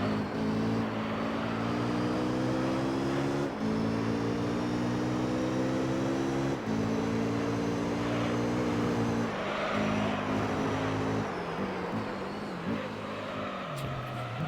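A race car's engine drones steadily in Gran Turismo Concept on PS2 at Mid-Field Raceway, rising in pitch through the gears, dropping at each shift, and easing off toward the end, loud and continuous.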